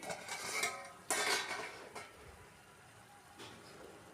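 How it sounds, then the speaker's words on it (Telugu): Metal lid set onto a cooking pot while making tomato egg curry, a few distinct clanks and a sharp clatter near the start, faint and close, with quieter handling noise after. "కాసేపు అయితే మూత పెట్టేసుకోవాలి"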